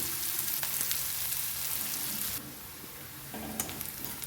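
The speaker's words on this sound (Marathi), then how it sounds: "कांदा आपला छान मऊ झाला पाहिजे परतून" Finely chopped onions frying in a pan as they cook soft, giving a steady, close hiss and sizzle that drops a little partway through, with a few faint clinks of stirring.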